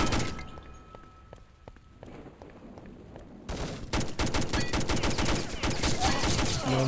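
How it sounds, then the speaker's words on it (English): AK gunfire in a video game, first as sparse distant pops, then building into dense, sustained bursts of rapid shots that grow louder and closer toward the end. "Long range AK fire"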